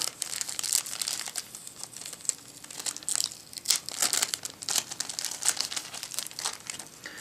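Plastic packaging around a small remote control is crinkled and pulled open, producing close, continuous crackling and rustling with uneven bursts and no talking.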